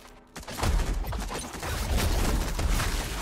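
Dense, continuous gunfire in the sci-fi strategy game ZeroSpace, with rapid overlapping shots and booms, loud and sustained.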